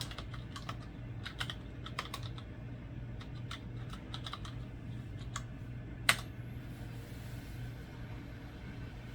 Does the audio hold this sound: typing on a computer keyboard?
yes